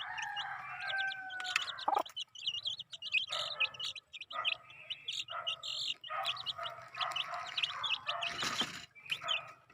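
Chickens and chicks raised in a rural province cluck and peep nearby, a busy overlapping stream of short chirps and clucks with brief pauses, no talking.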